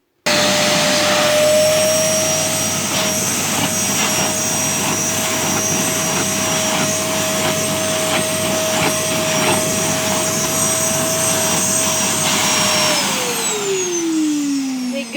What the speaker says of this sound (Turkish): bu şekilde evin her tarafını süpürgeyle bu uç kısmıyla bu şekilde böyle çektirerek her tarafını bu şekilde süpürdüm